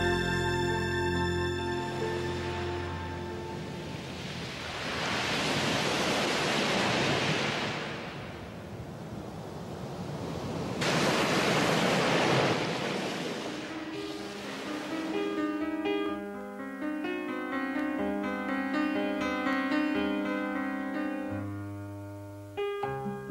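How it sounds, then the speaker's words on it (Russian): Sea surf washing onto the shore at Alushta on Crimea's southern coast, heard as broad rushing swells that rise and fade under sustained background music, with no voices. "Шорох прибоя служит фоном для скрипок цикад."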